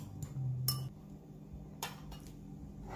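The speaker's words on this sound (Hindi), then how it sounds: "अच्छे से मिक्स कर लूंगी।" Moong dal vadi being mixed with oil in a bowl, a few light clinks and scrapes of a utensil against the dish, soft and close with quiet gaps between.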